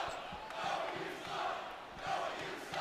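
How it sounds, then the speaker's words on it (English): Basketball arena crowd at a college game, Kentucky hosting Arkansas, jeering a player during free throws: a steady roar of many voices swelling and easing in waves, with a faint rhythmic thump beneath. "You can hear the crowd behind us telling the world what they think of Noah right now"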